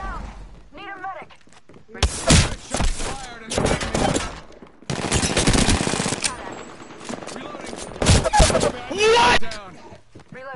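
Gunfire in the Apex Legends video game: several bursts of rapid automatic fire, loud and close, separated by short pauses, with some single shots and impacts, while players talk between the volleys.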